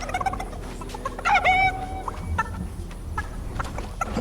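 A chicken in the Fortnite video game clucks and squawks in short bursts over light game ambience, a few calls near and fairly loud.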